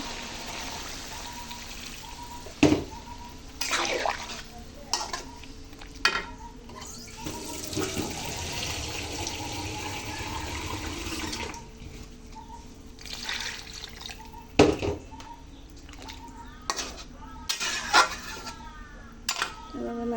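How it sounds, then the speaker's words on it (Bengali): Water poured into a cooking pot while a Bengali fish curry of mirka fish, potato, radish and tomato simmers, a running splash with clatters and knocks around it, speech intermittent. "এবার আমি জল দিয়ে দেবো"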